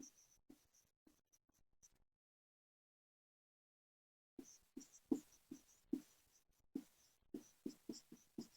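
Quiet pen strokes on paper as an English tense classification is written out by hand, short soft scratches in two clusters separated by a silent pause.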